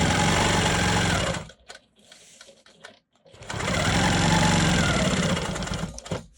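A Quilt Maker Pro 20 quilting machine stitches diagonal lines across fabric in loud, fast, even bursts, running for about a second and a half, stopping briefly, then resuming steadily close by.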